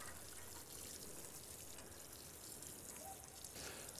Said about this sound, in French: Et on arrose copieusement la première fois.